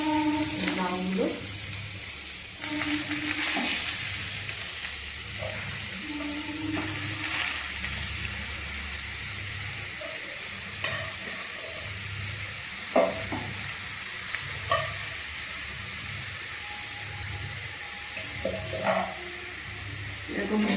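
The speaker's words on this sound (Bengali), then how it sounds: "ঘিয়ের মধ্যে কড়াইতে লাউগুলো দিয়ে সুন্দর একটা ব্রাউন ব্রাউন একটু ভেজে নিতে হবে কড়াইতে" Bottle gourd pieces fry in ghee in a wok, a soft steady sizzle under repeated stirring and scraping, fairly quiet and close, with occasional clinks of the utensil.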